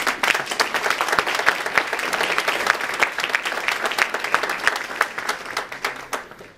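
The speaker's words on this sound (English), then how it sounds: "please give a hand of applause for that" Audience at a research day presentation breaking into applause, a dense patter of many hands clapping close and loud, steady for several seconds before tapering off.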